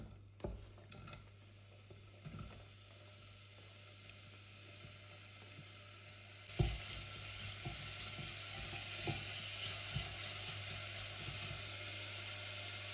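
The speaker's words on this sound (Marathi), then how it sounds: "तमालपत्र टाकते पहिल्यांदा आणि कांदा भाजून घेते." Onion and bay leaf fry in a pan on a home stove, a soft steady sizzle that swells louder about halfway through and then holds, with faint stirring clinks and no talking.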